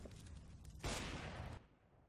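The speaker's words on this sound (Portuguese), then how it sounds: "O Fox não vai falhar este tiro." A sharp burst of gunfire in Counter-Strike on the Dust 2 map, loud and dense, cuts in for under a second, then fades out quickly; no talking.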